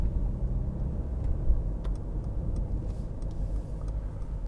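A 2015 Mercedes-Benz C-Class cruising up a motorway, heard as a steady low engine drone and road rumble from inside the car, continuous and even without talk.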